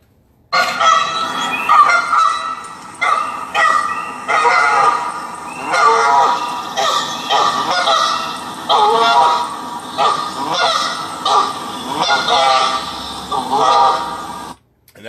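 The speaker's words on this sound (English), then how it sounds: "And that goose there has a real nasally" A big, mean old gander goose honks over and over in loud, nasal, harsh calls, a dense run of overlapping honks with little pause, close and continuous for most of the stretch before stopping abruptly.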